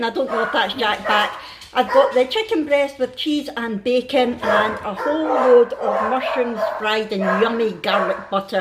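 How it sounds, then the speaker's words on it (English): Pet dogs bark and yip intermittently in a home kitchen while someone talks continuously over them about her keto dinner, the barking partly masked under her voice. "Please excuse the dogs barking"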